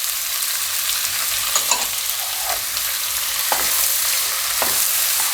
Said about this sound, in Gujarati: હવે આપણે એમાં લસણ નાખી દઈશું અને આદુ મરચાં નાખી દઈશું.